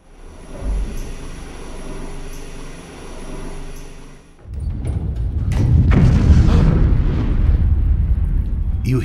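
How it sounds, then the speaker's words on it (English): In the sci-fi video game 3 Minutes to 8, a deep, booming explosion erupts after a few seconds of low droning music, followed by a long rumbling roar that fills the rest of the clip. "You hear a thunderous explosion. It sends a shockwave into your very core."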